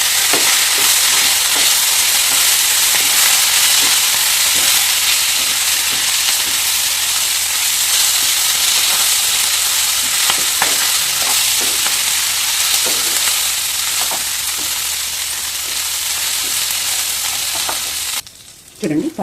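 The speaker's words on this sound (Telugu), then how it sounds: "ఇలా అయితే మొత్తం వేసుకుని బాగా వేయించుకోండి." Green chilli and ginger paste frying in a pan, a steady loud sizzle with stirring scrapes throughout, cutting off abruptly near the end.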